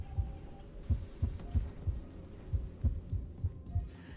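A faint, steady heartbeat in the video game Honkai: Star Rail, soft low thumps in paired beats repeating evenly over a quiet hum.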